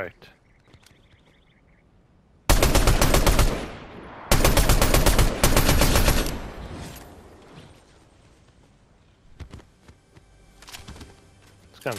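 Assault rifle gunfire in the Fortnite video game: loud bursts of rapid shots in three close clusters, then quieter scattered game sounds and footsteps.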